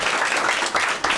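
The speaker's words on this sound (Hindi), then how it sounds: "ताली बजाओ भाई उसके लिए।" A studio audience on a Hindi matchmaking show claps for a departing guest in a short, dense burst of applause that fills the moment without pause.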